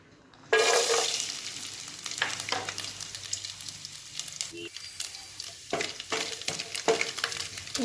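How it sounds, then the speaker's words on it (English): Coconut pieces drop into hot coconut oil, setting off a sudden burst of sizzling that settles into steady frying with intermittent stirring and scraping, close up and free of speech. "Now you can add coconut oil to it. Oil garam ho gaya hai. So now first you have to add coconut pieces."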